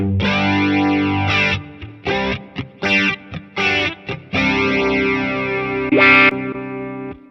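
An electric guitar runs through a Sonicake Pocket Master with chorus and reverb, playing distorted sustained chords and short choppy stabs with shimmering, wavering tails and a bright bend near the end, loud and alone.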